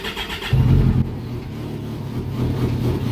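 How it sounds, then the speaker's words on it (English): A 2012 Kawasaki Concours 1400 sport-touring motorcycle with an aftermarket exhaust fires up, the starter catching into a loud burst of engine that then settles into a steady, throaty idle close by. "we're going to have to fire it up. This also has an aftermarket exhaust, so it get a little bit of attitude out of it"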